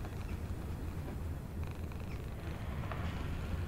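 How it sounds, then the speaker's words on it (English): A cat in an abandoned building purrs continuously, a low rumbling texture that stays close and steady throughout. "Oh, it's a cat."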